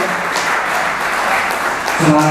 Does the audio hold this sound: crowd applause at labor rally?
yes